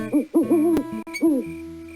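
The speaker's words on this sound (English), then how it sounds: "The soft cry of the owl." Owl hooting in the Berenstain Bears in the Dark Windows game's nighttime scene: a few soft, warbling hoots, close and clear, with a faint background bed.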